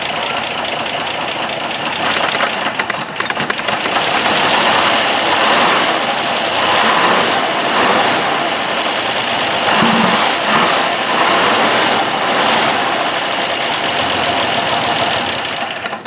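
A 1965 GMC engine with a suspected rod or main bearing knock revs up and settles several times in a row. The rises and falls come in waves, and a rhythmic knocking runs under them, with no talk.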